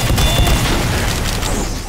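Dense, booming gunfire in Team Fortress 2 zombie escape mode, a steady barrage of loud overlapping shots with no pauses.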